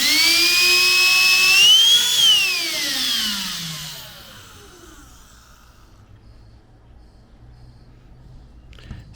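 Black and Decker Dustbuster handheld vacuum with a noisy motor bearing, whining loudly at close range, pitch rising then sweeping down as the motor spins down to near silence.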